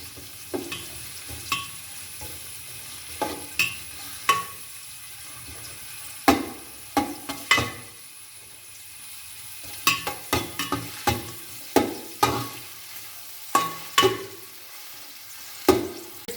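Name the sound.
garlic sautéing in a pan until golden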